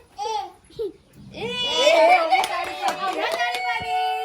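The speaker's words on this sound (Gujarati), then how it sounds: "તાળી પાડો." Hands clapping at a child's birthday party right after the birthday song and cake cutting, with bursts of applause mixed with children's babble and adult voices talking and chattering over them.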